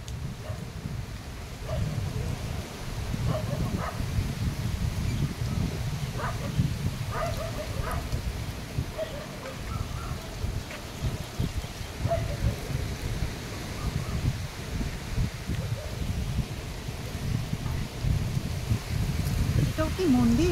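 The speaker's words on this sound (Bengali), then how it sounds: "ঝড় এলো বলে প্রচুর হাওয়া হচ্ছে" Strong pre-storm wind gusts across large standing rocks in the Dubrajpur hills of Birbhum, a close, steady low roar and buffeting that continues for the whole stretch.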